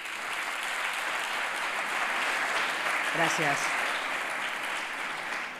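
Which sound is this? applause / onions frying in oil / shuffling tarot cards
applause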